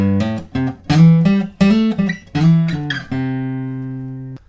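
Acoustic guitar playing a riff at a quicker tempo, a tight run of bright plucked chord phrases that ends on one long chord left ringing and fading out, close and without any voice.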